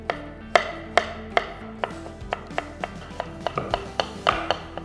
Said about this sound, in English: Next, we're gonna slice zucchini.